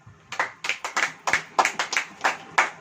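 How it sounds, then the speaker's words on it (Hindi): A church congregation clapping in a rhythmic unison beat, about ten sharp claps at a steady tempo, fairly close and with no talk over them. "ताली बजाइए।"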